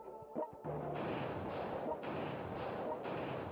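Artillery barrages in the strategy war game World Conqueror 3, a dense, sustained rumble of booming fire after a couple of sharp thuds, loud and continuous through the scene.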